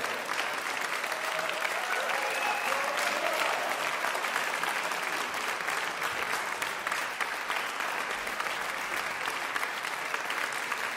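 Sustained audience clapping for a band at the Nowa Tradycja 2014 concert, a broad, even wash of many hands that holds for the whole stretch, with faint tonal sounds early on.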